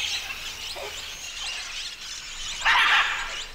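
Spider monkeys give high, thin squealing calls in the forest canopy, steady throughout with a louder burst near the end.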